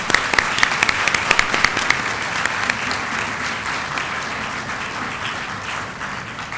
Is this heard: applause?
yes